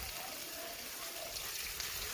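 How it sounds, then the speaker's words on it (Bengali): Water poured into spices frying in a pan, a steady hissing, splashing wash that runs the full length at moderate loudness, with no speech over it. "এখন আমি পরিমাণ মতো পানি দিয়ে নিব"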